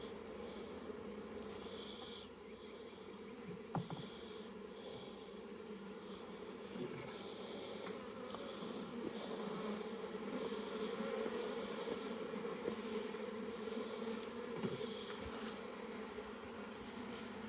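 Honey bees buzzing during an inspection of a honey super, a continuous droning hum with individual bees flying past close by, steady and moderately quiet, without talking.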